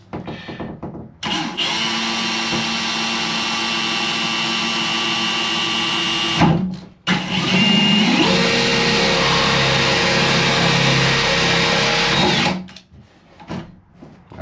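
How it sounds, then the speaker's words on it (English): A power drill runs steadily for about five seconds while drilling into a bath during fitting, pauses briefly, then runs again for several more seconds, loud and close with a whining motor tone. "Time to drill into a bath."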